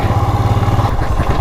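Royal Enfield Himalayan BS6 motorcycle riding along a slushy, muddy road, its single-cylinder engine thumping in a steady, close and loud pulse that wavers slightly as the throttle shifts.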